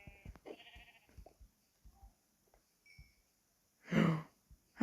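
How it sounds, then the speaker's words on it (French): Sheep in Minecraft bleat in short, wavering calls, one early and a louder one near the end, set apart by quiet stretches holding soft game clicks and footsteps. "Là on a des bons vieux moutons qui ont spawn."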